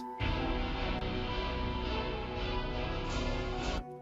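Continuous synthesized RPG battle music, pitch-altered, plays with sustained tones and a steady beat, loud and unbroken for a few seconds before stopping abruptly.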